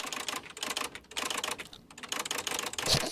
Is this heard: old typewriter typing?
yes